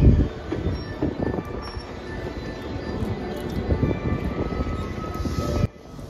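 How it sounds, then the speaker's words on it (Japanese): Kuroshio limited express bound for Shirahama, running with Ocean Arrow cars, rumbles steadily nearby with dense low rolling noise and faint wheel tones, then drops off abruptly near the end. "この電車は白浜行きの黒潮号、大阪駅から天王寺駅。"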